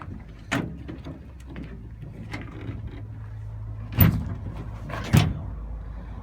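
The one-handed tailgate on a Dodge truck is worked with a few sharp metallic clunks and latch thumps, the loudest two near the end, over a low idle-like hum outdoors.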